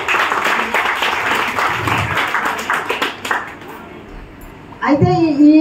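Audience applause at a school environmental-protection event, a dense wash of many hands clapping for about four seconds, then fading as a voice begins speaking near the end.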